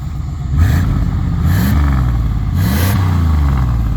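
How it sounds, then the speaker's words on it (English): An old van's engine revs up and drops back in about three short throttle blips, a rough mid-pitched engine note close by over a steady idle. "Hit the throttle a few times."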